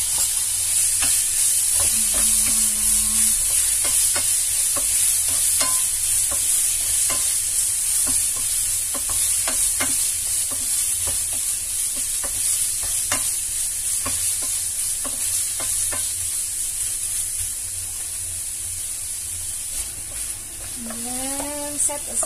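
Liver sizzles and fries in a pan for Ilocano igado, a steady bright crackle with intermittent stirring scrapes and soft clinks throughout, close and moderately loud, with no talk.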